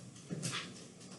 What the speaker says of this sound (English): you might hear my dog walking around a little in the background.